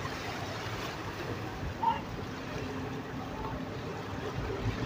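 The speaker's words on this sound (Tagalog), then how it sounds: "Yan, medyo maalon-alon po" Continuous wash of choppy water against Dumaguete Port in Negros Oriental, with low rumbling wind and surf noise throughout, fairly loud and close.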